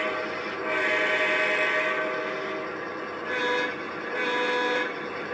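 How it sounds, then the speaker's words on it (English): A Lionel model modern diesel locomotive sounds its horn in several sustained blasts, steady chords that swell and fade with short gaps, close and alone. "You can actually change the sound of the horn on this, which is pretty common in most modern legacy locomotives"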